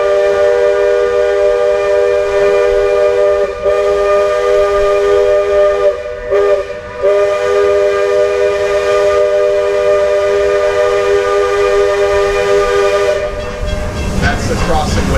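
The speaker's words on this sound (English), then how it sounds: "The whistle they'll blow every time they approach the crossing." A loud, sustained steam locomotive crossing whistle on the Walt Disney World Railroad blows almost continuously, briefly breaking off twice, with hissing steam and train rumble surging near the end.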